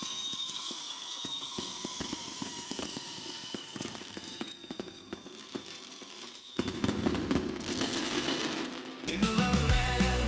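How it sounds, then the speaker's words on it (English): Fireworks at a night celebration for America's birthday in Terrell pop and crackle in repeated sharp bursts, some near and some farther off, building into denser, louder explosions toward the end. "the fireworks are lighting up the whole sky"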